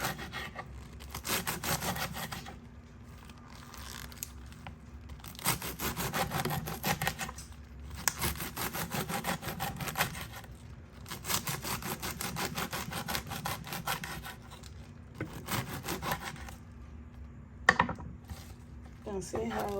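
A knife slices chard stems on a cutting board in long runs of steady rasping strokes broken by short pauses, close and even, with a voice heard faintly at times.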